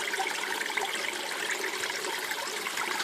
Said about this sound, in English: this is a little water feature